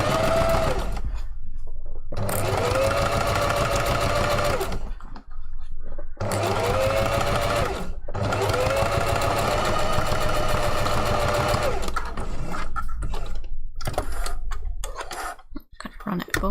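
Sewing machine stitching a small seam on a puffy fursuit hand paw, its motor whirring loudly in long bursts with short pauses between runs, a voice talking lightly over parts of it.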